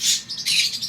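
An African Grey parrot gives soft, high chittering squawks, two or three short close bursts in quick succession with no talking over them.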